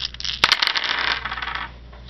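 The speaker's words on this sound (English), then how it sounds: "I would roll all five dice" Five dice roll and clatter together for the Memoir 44 board game, a quick cluster of sharp clicks and rattles on a hard surface that settles into a faint fading rattle.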